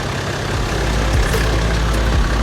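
A 4WD engine runs steadily, a loud continuous low rumble with a broad even roar and no pauses or speech.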